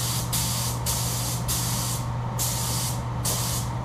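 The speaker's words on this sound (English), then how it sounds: "now I'm spraying my super chrome on it" A spray gun lays down super chrome paint in a steady loud hiss, broken by several short pauses between passes, with a constant low hum from an extraction fan underneath.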